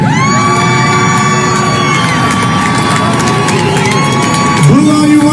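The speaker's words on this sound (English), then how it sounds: "Boo all you want to, motherfuckers." A loud, dense crowd roars and jeers in a continuous wall of voices, with a held tone from sound equipment running through it.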